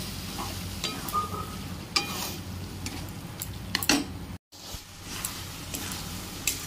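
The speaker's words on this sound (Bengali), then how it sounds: "এবারে নুন হলুদ দিয়ে সেদ্ধ করে রাখা মটর আর আলু দিয়ে দিচ্ছি। এটাকে এবারে একটু কষিয়ে নেব।" Boiled peas and potatoes stir-fried in spiced oil with salt and turmeric, a steady close sizzle broken by spoon scrapes and clinks against the pan, with no voices.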